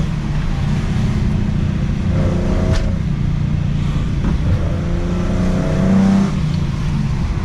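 A Nissan Skyline's engine drones steadily while driving, a continuous low rumble with faint pitch swells as the car accelerates, heard from inside the car.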